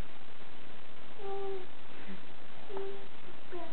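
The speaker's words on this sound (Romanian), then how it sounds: "Pisica, mami, pisica." A cat gives two short, faint meows about a second and a half apart against a soft, steady background hiss, with no talking.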